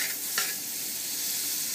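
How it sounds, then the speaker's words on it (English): A steady, faint sizzle of butter in a hot pan hisses continuously, with a brief scrape near the start. "This pan is really quite hot, so it's going to sizzle a fair bit when I put it in."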